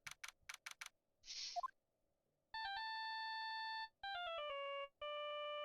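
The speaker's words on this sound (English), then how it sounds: "I bet it was this ringtone that caused it" A Phoenix Wright: Ace Attorney phone ringtone plays, a bright electronic melody of sustained beeping tones in three phrases that follow a few quick ticks and a short chirp, clear and alone.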